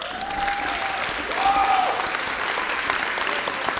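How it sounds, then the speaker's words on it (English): A high school senior awards crowd gives the students' parents a round of applause: full, sustained clapping from many people, with a couple of brief whistles or whoops rising over the steady roar. "please take the time now to give your parents a round of applause"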